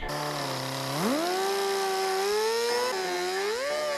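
A power tool cuts a large square out of a pump housing. It makes a loud, steady motor whine that rises in pitch partway through and holds high, continuous for the whole stretch with no talk.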